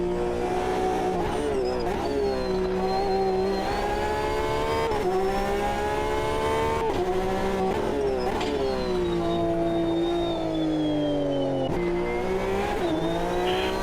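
A Holden Commodore V8 Supercar engine roars continuously in a racing video game, revving up and down through repeated gear shifts with some tire squeal.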